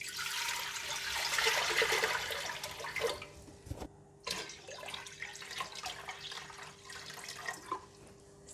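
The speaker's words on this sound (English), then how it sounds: "Put 3 liters of water in the pot." Three liters of water gushes and splashes steadily into a cooking pot, loud at first, then a pause and continued pouring with drips and gurgles.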